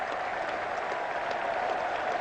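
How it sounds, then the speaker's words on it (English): A cricket crowd at an England versus Australia Test match cheers and applauds a boundary, a dense, steady wash of clapping and crowd noise heard from a distance, with no break for its whole length. "The cheer tells the story."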